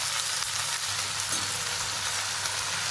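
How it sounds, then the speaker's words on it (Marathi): Spinach sautéing with garlic and green chillies in a pan over a gas flame, a steady close sizzle and crackle running throughout without pause, with no voices. "आणि खास गॅसवर परतून घेऊया"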